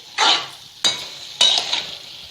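Brinjal curry with tamarind juice being stirred in a pan, in three separate scraping strokes, each a short loud burst that fades off, with no one talking.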